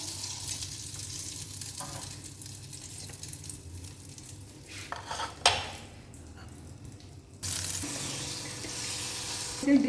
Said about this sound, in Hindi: इस तरह सारे इसका फ्राई कर लेंगे।